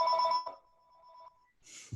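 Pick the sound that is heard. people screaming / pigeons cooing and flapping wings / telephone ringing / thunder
telephone ringing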